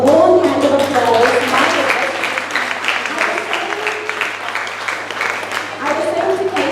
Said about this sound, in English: Can we all just give ourselves a warm hand of applause?